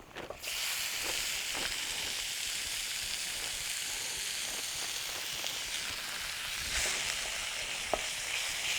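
Half a kilo of lamb mince hits a hot pan and starts frying with a loud, steady sizzle and crackle, stirred now and then, no talk over it.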